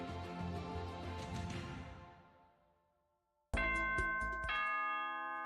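A doorbell chime in the 1995 video game Mission Critical rings out as two bright electronic tones, the second shortly after the first, following a fading earlier sound and a moment of near silence.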